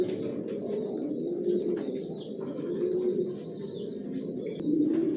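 Racing pigeons in a loft coo steadily in a low, throaty, continuous murmur from several birds, close and moderately loud, with faint chirps and brief wing flutters over it.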